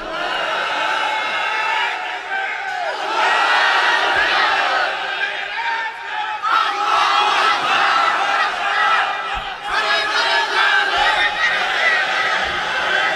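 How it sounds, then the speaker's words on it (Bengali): At a Bangla Islamic sermon, a large crowd chants the takbir, Allahu Akbar, in loud collective shouts that come in repeated waves of massed voices. "সবাই মিলে একটা তাকবীর দেন তো"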